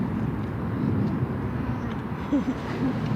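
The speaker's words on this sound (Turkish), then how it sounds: "Uçak tam da altımızda." An airplane's droning roar fills the air, steady and broad, with a few faint indistinct sounds near the end.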